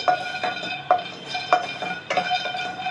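Peanuts dry-roasting in a pan without oil as a spatula stirs them, making rhythmic scraping and rattling clinks of metal about every half second, close and steady with no talking.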